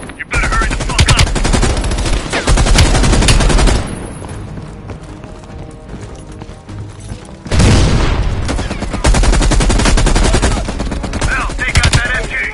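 Loud, sustained machine gun fire from the Call of Duty: Black Ops Cold War campaign, dense bursts with a quieter lull in the middle before heavy firing resumes, explosions booming through the mix.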